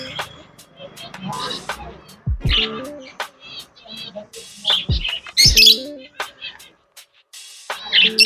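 Finches chirping and squawking in short sharp bursts at a shop just before being set free, close and fairly loud, with scattered noises and brief pauses between calls.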